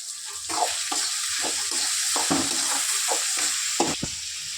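Tomatoes with salt sauté in a pan, a constant close sizzle broken by repeated scraping strokes of a spoon stirring, no voices.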